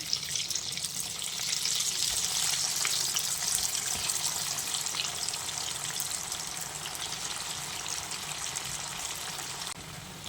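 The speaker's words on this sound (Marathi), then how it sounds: "आपलं तेल गरम झालेलं आहे तर आपण आता ती फ्राय करून घेऊया" Coriander vadi shallow frying in hot oil in a kadhai, giving a steady, loud hissing sizzle that runs continuously and closely throughout with no speech over it.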